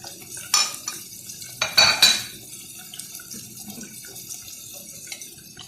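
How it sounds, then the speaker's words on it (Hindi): A spoon stirs ground coriander and other spices into a little water in a small metal vessel, giving several sharp clinks and scrapes, then lighter scraping that trails off. "इस तरह थोड़े से पानी में ये मसाला घोल कर"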